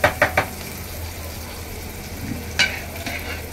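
Turmeric and salt masala frying in oil for a village-style fenugreek curry, opening with three quick spoon knocks on the pan, then a low steady sizzle and another knock midway, close with no talk.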